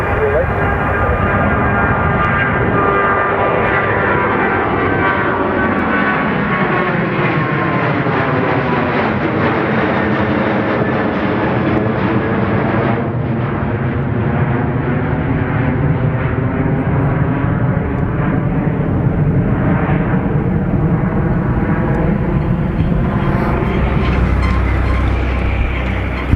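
A heavy airliner taking off from runway 28 right at Dublin Airport, a loud sustained jet engine roar whose pitch rises and then falls across the whole stretch as the aircraft powers past, steady and continuous without pauses.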